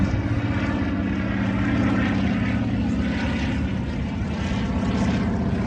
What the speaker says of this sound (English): I'm just going to swing across to the seaplane that's coming in over